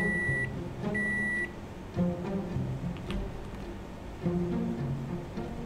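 A microwave oven in a home kitchen gives two sharp, high beeps at the start, then runs on with a low, steady hum and occasional clunks. The sound is close and moderately loud.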